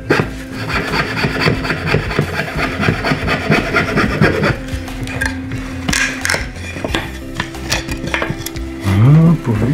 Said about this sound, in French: Je dois libérer les touches entre elles et ça se fait avec cette petite scie